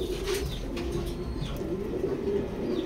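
A young racing pigeon in a loft coos softly in low repeated phrases, with faint chirps and light rustling in the background.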